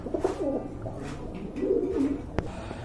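Pigeons coo softly nearby in low, throaty murmurs, with a sharp click partway through.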